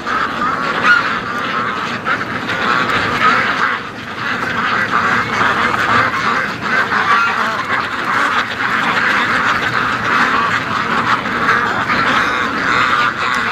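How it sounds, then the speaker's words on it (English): A flock of ducks quacks continuously on a gusty, windy day by a swamp, the calls overlapping in a steady, loud chorus that runs throughout with no talking. "All the ducks. They don't know what to do."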